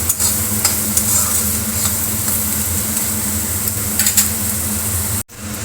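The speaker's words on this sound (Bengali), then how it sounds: "এর মধ্যে হলুদ, লঙ্কার গুঁড়ো, আদা কাঁচা লঙ্কা বাটা, মশলাটাকে নাড়াচাড়া করবো" Turmeric, chili powder, ginger and green chili paste fry in a pan and are stirred steadily, a dense, close sizzle with soft scraping that runs almost the whole time before a brief cut near the end.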